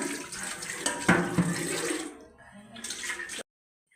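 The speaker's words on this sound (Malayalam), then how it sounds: "ഫസ്റ്റ് തന്നെ നമുക്ക് പാത്രം കഴുകുന്നുണ്ട്" A pot is washed under running water from a tap, splashing and gushing steadily, easing briefly before cutting off abruptly.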